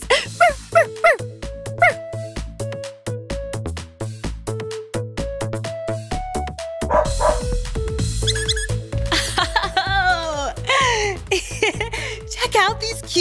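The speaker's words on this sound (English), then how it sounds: "Check out these cute puppies!" Several puppies yip and whimper in high, squeaky bursts over a bouncy musical backing, close and lively throughout.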